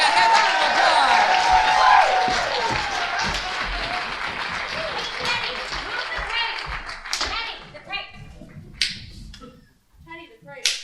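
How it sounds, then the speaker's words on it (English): An audience at a variety show breaks into applause with cheers and whoops, loud clapping that swells early and then fades into scattered claps as voices talk over it. "Everybody, a round of applause."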